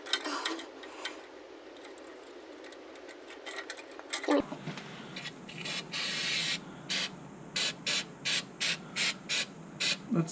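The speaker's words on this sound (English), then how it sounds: "that's spray paint? Yep." Short hissing bursts of a spray paint can repeat in a steady on-off rhythm, close and fairly loud, following a stretch of ticking and rattling.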